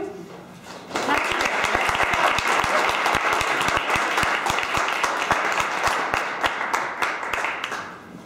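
An audience breaks into sustained applause, many hands clapping loudly and continuously, with some scattered voices underneath.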